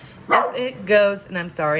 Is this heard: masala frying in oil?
no